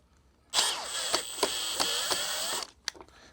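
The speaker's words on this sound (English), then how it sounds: "now we'll put this terminal screw back in" A terminal screw driven back into an electrical receptacle with a power driver, a close, steady whirring buzz of about two seconds with small pulses, then stopping, followed by a couple of faint clicks.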